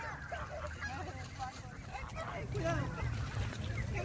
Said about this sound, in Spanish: que le andan dando de comer a los patos en el centro